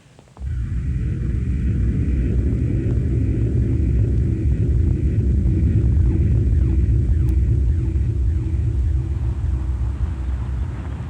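A science-fiction spaceship comes in to land with a loud, sustained low rumble and hum that begins abruptly and holds steady throughout.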